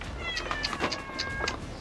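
A cat that climbed a ladder into a loft under conversion meows in a few short, thin cries over faint background noise, close but quiet.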